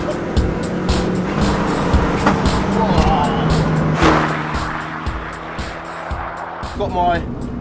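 A VW Polo with a swapped SEAT Cupra R 1.8T 20V engine of about 300 hp drives along, its engine note steady and close with a brief tyre squeal, while people talk over it throughout.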